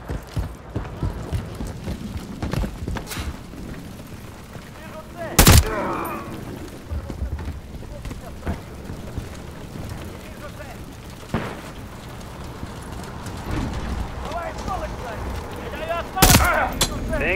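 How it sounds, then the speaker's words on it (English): Combat in Call of Duty Modern Warfare 3 with scattered gunshots and bursts of rifle fire throughout, two sharp loud blasts standing out, amid steady battlefield noise and occasional voices. "There's enemy fire!"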